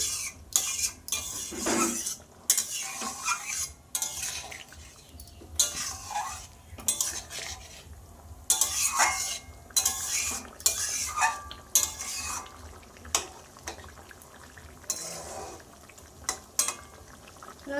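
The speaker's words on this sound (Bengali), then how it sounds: "গরম মশলাটা একটু মিশিয়ে নামিয়ে নেব" A spoon stirs garam masala into a fish roe curry in a pot, scraping and clinking against the metal in a busy, uneven rhythm with soft bubbling sizzle underneath, close and fairly loud throughout.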